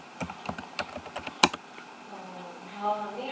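Rapid keystrokes on a computer keyboard, a quick run of sharp clicks with one louder strike near the middle, then quiet room tone with faint background hum.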